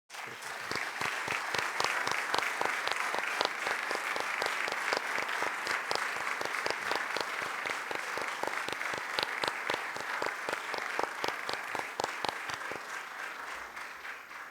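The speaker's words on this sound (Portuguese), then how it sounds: "Salva de palmas" Steady applause from a ceremony audience at the installation of a university rector at the University of Madeira, sustained dense clapping continuing for many seconds without talk.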